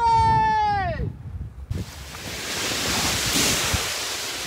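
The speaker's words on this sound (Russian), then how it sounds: "порывчик ветра, поехали" A gust of wind buffets the microphone at a paragliding launch site, a loud rushing roar that swells after a brief high-pitched whistling tone and holds steady to the end.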